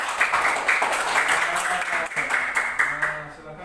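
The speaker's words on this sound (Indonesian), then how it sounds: "Tepuk tangan buat temannya." Schoolchildren in a fifth-grade classroom clap for a classmate, a steady dense patter of hands lasting a few seconds, with young voices mixed in under it before it tapers off.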